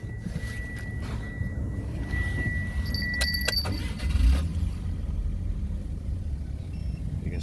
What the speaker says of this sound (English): I'll just start the engine up.